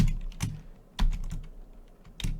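Someone types on a computer keyboard while entering text into an Excel spreadsheet, with a few separate close keystrokes spaced irregularly over a quiet background.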